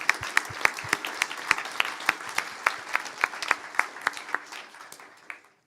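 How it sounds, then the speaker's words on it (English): A room of attendees at a geometric deep learning and medical image analysis conference claps in a brisk, fairly even run of sharp claps that thins out and stops after about five seconds. "So big round of applause."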